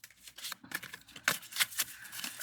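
Cards shuffled up close in a series of short, crisp riffles and snaps, separated by uneven gaps, with no one speaking.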